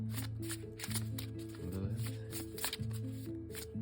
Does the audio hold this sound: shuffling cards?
yes